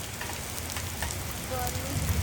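Rain falling at night, a dense, even patter and hiss close by, steady and moderately loud throughout, with faint voices underneath.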